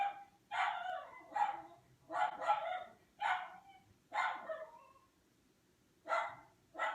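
Several dogs bark in bursts, a sharp volley every second or so with short pauses, fairly close and loud against a quiet background.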